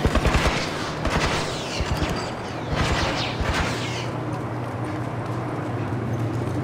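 Gunfire in The Last of Us gameplay: a rapid cluster of sharp shots bursts out in the first seconds, then a few more cracks around the third second before fading into a low rumbling game ambience with no talk.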